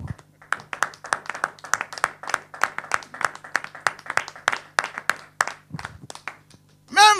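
A church congregation clapping in praise, a steady rhythmic round of many hands beating together at an even tempo, fairly loud and close, with a brief cheer rising at the end.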